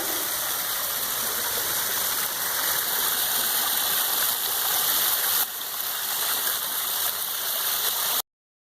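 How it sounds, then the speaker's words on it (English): A backyard fish pond's enlarged waterfall splashes and gurgles in a constant, close rushing flow, cutting off abruptly at the end. "We enlarged with the waterfall."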